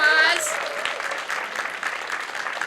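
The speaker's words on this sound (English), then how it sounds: "Give them a round of applause" Audience applause at a library branch grand opening, a sustained round of clapping from a crowd that stays fairly even throughout, with a brief tonal sound at the very start.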